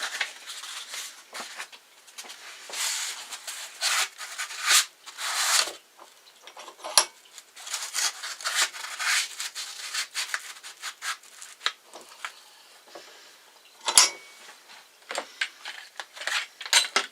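A knife blade drawn back and forth across a 600 grit whetstone with light pressure, producing repeated gritty rasping strokes of uneven length, close and quiet, with occasional small clicks.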